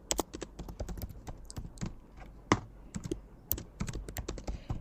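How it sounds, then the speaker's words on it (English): Keys on a computer keyboard clatter in quick, uneven bursts of crisp taps, close and fairly loud, with short pauses between words and no voice. "the next thing is to hit here on my keyboard again and I'm going to type"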